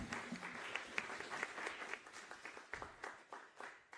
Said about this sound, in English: And maybe a round of applause to the host.